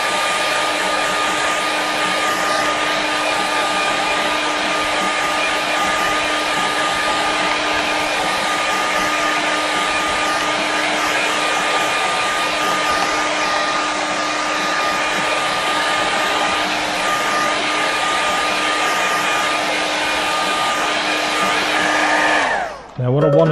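A hair dryer blows steadily over a wet watercolour seascape painting, a loud continuous whooshing hum lasting over twenty seconds before cutting off abruptly at the end.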